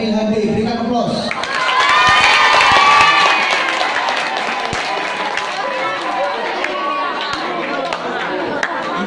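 A crowd at a debate applauds and cheers as the team members are called up, a dense wash of clapping and voices that swells around the second and third seconds and then settles into a steady murmur.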